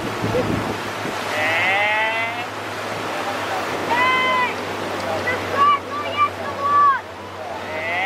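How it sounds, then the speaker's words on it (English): Small motorboat droning steadily on open water near Laughlin with wind buffeting the microphone; voices chatter and shout over the engine hum. "Alright, so we're on this little boat."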